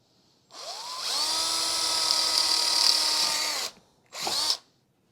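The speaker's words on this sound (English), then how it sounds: "now I'm going to drill my holes" A power drill drilling through plastic and wood whirs steadily for about three seconds, pitch rising as it spins up, then a short second burst follows after a brief pause.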